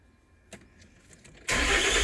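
A 2008 Nissan Pathfinder 4.0L 4x4 with many dash lights and fault codes cranks briefly after a click, then catches and roars loudly into a steady close run, with no talk over it.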